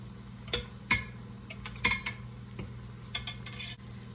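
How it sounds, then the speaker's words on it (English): Quiet steady sizzling of pumpkin donuts frying in oil, with occasional soft clinks and taps of utensils, no voices. "I'll just keep frying till they're all done."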